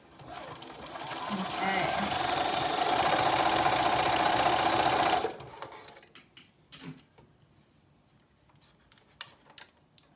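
A sewing machine runs a long steady stitching burst along a fabric seam at a 1 centimeter allowance, then stops; afterward come scattered handling clicks and a brief spoken word.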